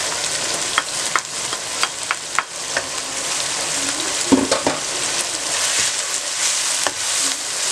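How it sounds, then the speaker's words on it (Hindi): Chicken sizzles in a pan with salt and chillies, a steady close frying hiss broken by scrapes and clinks of stirring, with no talking. "दोबारा चंद सेकंड के लिए फ्राई करें।"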